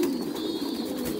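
Pigeons cooing at a pigeon farm, a steady low murmur of several birds close by over a faint background hum.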